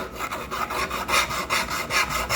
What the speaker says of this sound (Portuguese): Aí estamos lixando